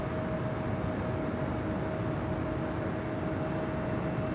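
FedEx Airbus A300, 34 years old, taking off at LAX, a steady broad jet roar with a constant whining tone, heard from a distance with no voices.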